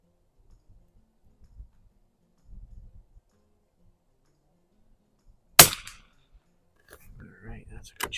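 A single sharp, loud rifle shot from an H&R M12 military trainer cracks out at the range after near silence, followed by soft handling noises and faint talk.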